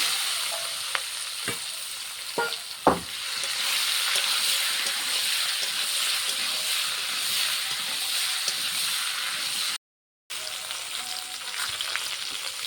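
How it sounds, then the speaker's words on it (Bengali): Fried vegetables tossed in a pan with dry red chilli and panch phoron, a continuous loud sizzle and frying hiss with a few sharp scrapes of stirring near the start and a brief dropout, close, no voices. "পাঁচ ফোড়ন ভালো করে নেড়ে নেব ভেজে রাখা সবজি দিয়ে দেবো"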